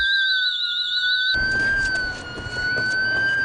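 A loud electronic home alarm siren wails with a steady, wavering pitch, first alone and then over a burst of broadband noise.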